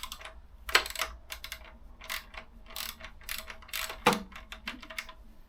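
17 mm ratchet tightening bolts while an Ermax fairing is fitted to a motorcycle, rapid close clicking bursts of the pawl in uneven strokes, with a few sharper metallic knocks.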